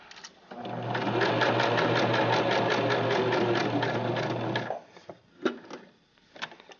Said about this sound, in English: lift up your needle and your presser foot, move to the next line, making sure to stay lined up with the 5/8 line. Back stitch